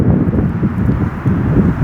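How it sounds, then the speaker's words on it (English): Strong wind buffets the microphone in a canyon draw in New Mexico, a loud, low rumbling roar with uneven gusts throughout and no voices. "it's so windy now"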